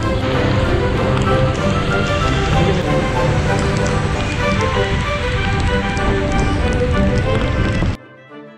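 Heavy monsoon rain pours over Mumbai during a city ride under a red alert. A dense, loud, continuous roar of rain fills the scene before cutting off abruptly near the end.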